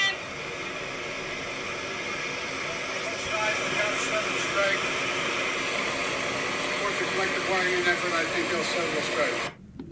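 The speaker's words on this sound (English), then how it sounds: "there's a giant jet" A giant jet roars loudly and steadily for about ten seconds during an outdoor press gaggle with the President, its broadband noise largely drowning out faint voices before cutting off abruptly at the end.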